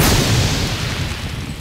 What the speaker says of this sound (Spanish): ¿qué pasa si disparo una flecha?